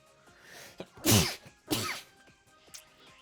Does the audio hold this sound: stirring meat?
no